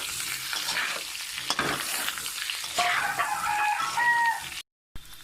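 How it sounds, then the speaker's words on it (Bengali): Boiled potatoes frying in oil in a pan sizzle steadily while being stirred, with scraping clatters over the hiss, and a brief cut to silence near the end. "এগুলোকে ভালো করে ভেজে নেব।"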